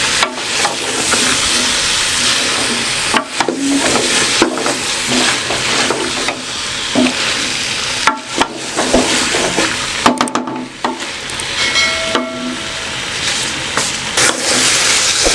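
Bottle gourd and chana dal stirred and frying in a pan, with a steady sizzle and hiss broken by repeated scraping stirs of a spoon, close and fairly loud throughout.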